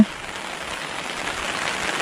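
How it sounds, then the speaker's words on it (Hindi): Steady, dense rain hisses on a surface, a continuous wash of noise without pauses, fairly close and moderately loud. "अच्छा खासा वर्षा हो"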